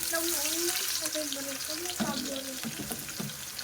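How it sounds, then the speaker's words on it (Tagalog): Garlic frying over low heat in a pan for sautéed peanuts with dried fish: a steady, close sizzle with occasional stirring scrapes and faint voiced tones in the background. "lutuin lang natin yung ating bawang ng low heat lang"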